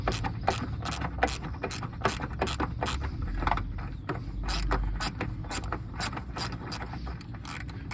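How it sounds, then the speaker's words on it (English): Deep socket ratchet clicking in quick, uneven bursts while undoing a red-hot rusted nut, a close, steady run of metallic pawl ticks with no talk. "And with my safety gloves, I'll come in and just undo it."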